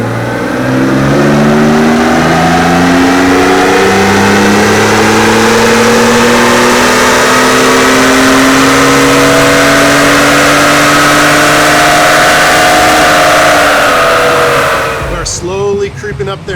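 A 2020 Ford Raptor fitted with upgraded Garrett turbos and intercooler revs hard on a tuning run, engine note sweeping steadily upward for about fifteen seconds, loud and close, before cutting off abruptly near the end.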